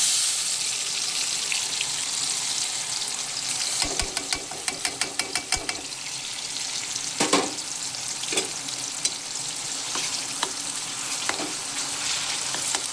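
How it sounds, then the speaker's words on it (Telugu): Onion, ginger, garlic and cumin paste fries in a pan, giving a steady close sizzle throughout, with a burst of rapid scraping and clicking from stirring about a third of the way in and a few later knocks. No one speaks. "ఈ ఉల్లిపాయ అల్లం వెల్లుల్లి పేస్టు బాగా మంచిగా పచ్చివాసన పోయి గోల్డెన్ కలర్లో వచ్చినంత వరకు బాగా వేయించుకోవాలండి."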